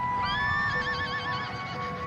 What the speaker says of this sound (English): magnificent, their horses rearing, plunging.